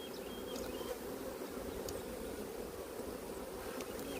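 Honey bees buzzing inside a beehive holding capped brood and open larvae, a dense steady drone throughout with an occasional louder bee passing close.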